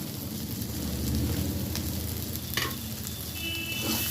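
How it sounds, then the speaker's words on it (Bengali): Loud, steady sizzling of egg fritters frying in hot oil in a pan, with faint stirring and scraping sounds rising through the crackle. "এবার আমি ডিমের ঝুড়ি ভাজাটা দিয়ে দিচ্ছি"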